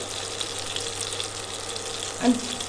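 Cumin seeds and bay leaf hit hot oil for a tempering while making a quick korma, giving a soft, steady frying hiss with one brief louder crackle near the end.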